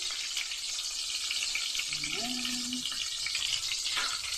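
Garlic, onion and tomato hit a hot pan together for an adobong kangkong dish, a continuous loud sizzle with a brief scraping stir midway.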